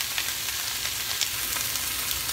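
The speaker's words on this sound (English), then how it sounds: "So I'm just going to brown my meat up a little bit." Ground meat browns in a pan with a dense, steady sizzle and faint crackling pops, close and continuous with no talking.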